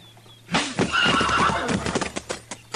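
A horse tied at a crowded hitch rack in an Old West town lets out a loud, close whinny, followed by scattered hoof clops and stamping.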